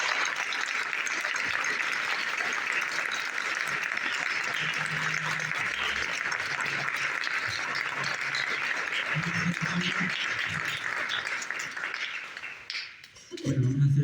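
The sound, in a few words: audience applause at radio recording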